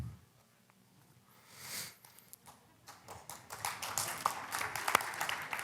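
Audience applause during a French-language relationship talk in Magog, starting sparse and scattered, then building into denser, louder clapping toward the end.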